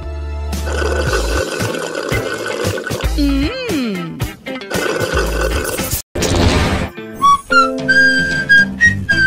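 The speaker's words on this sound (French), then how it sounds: "J'adore siffler des airs différents." A person whistles several different tunes in bright, sustained bursts, broken by short gaps, a sliding pitch and a clattering noise partway through.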